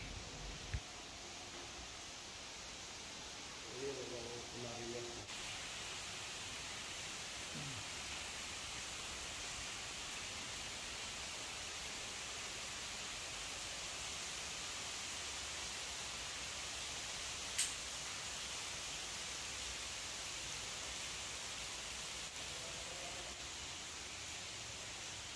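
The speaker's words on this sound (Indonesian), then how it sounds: "Ini lagi hujan lebat" Heavy rain falls steadily around a building, a constant hissing wash heard alone at a quiet, even level. A few faint thuds and brief sounds break through the rain.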